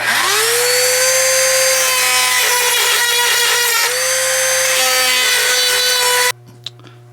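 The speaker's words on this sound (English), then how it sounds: "That's where I've got to grind it down, and that's what we're going to do right now." A rotary grinding tool works on a part of an Uberti Remington New Model Army revolver: loud, sustained high-pitched whine that rises as it spins up and shifts pitch under load, then cuts off, leaving faint clicks.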